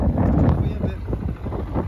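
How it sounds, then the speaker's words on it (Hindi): Strong wind at Rohtang Pass, a high mountain pass reached by road from Manali, buffets the microphone in a constant loud rumble while someone talks over it. "कितनी तेज़ हवा जहाँ पे चल रही है"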